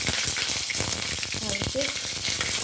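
Cooking oil sizzles and crackles loudly in a pan while preparing sardines with odong noodles, a dense, continuous hiss with brief stirring scrapes, close up.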